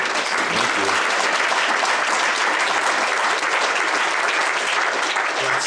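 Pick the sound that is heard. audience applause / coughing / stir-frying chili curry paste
audience applause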